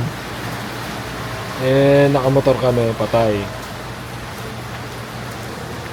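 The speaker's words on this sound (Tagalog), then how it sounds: "Lumakas ang ulan." Heavy rain hissing as a steady broadband wash while riding a motorcycle, with a person speaking briefly over it midway.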